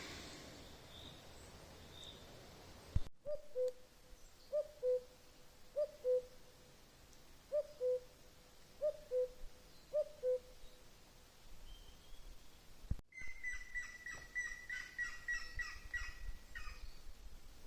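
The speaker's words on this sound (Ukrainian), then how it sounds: "Цей звук це великий чорний дятел." Faint, far-off black woodpecker calls in a Carpathian forest repeat in an even series of short paired notes, later followed by a quicker run of higher calls.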